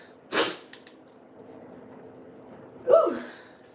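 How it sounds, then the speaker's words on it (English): A single sharp sneeze, close and fairly loud, followed a few seconds later by a second breathy burst, with quiet room tone between. "Ooh, sneeze."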